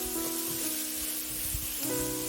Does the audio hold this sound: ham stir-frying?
yes